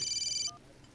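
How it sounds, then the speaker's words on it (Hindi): A telephone rings with a short bright electronic trill lasting about half a second, then a brief lower tone follows before the ringing stops. "जरा फोन आ गया"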